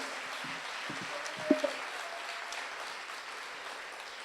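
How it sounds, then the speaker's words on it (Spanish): A church congregation claps during an evening service, a steady, dense wash of applause that carries evenly through the whole stretch, with a couple of sharper peaks early on. "le podemos dar un fuerte aplauso al Señor en esta noche"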